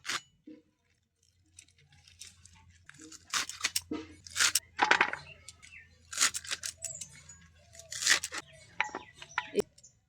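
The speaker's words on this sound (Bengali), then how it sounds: "এখন শুধু কেটে নেব" Washed spinach leaves being cut for a sour spinach dish with tilapia, with a series of crisp crunching, tearing chops in uneven bursts close by, over a low steady hum.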